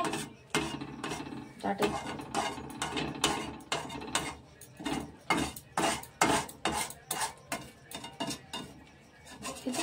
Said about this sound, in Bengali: একটা চাকু দিয়ে এই সরটাকে ভালো করে কেটে কেটে দিতে হবে।